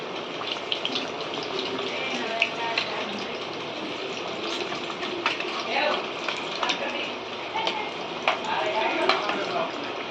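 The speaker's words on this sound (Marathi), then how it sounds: "आता याला चांगलं लालसर भाजून घ्यायचं" Battered drumstick pod fritters deep-frying in oil until reddish, a dense steady sizzle with bubbling and occasional scrapes and clinks, heard up close without any talk.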